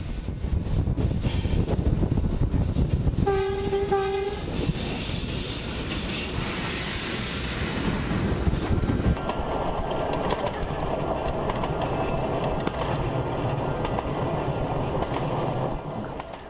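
A passenger train runs along rails in Jamaica, a steady loud rumble and clatter of wheels with a brief squeal and a horn-like tone early on, continuous and close throughout.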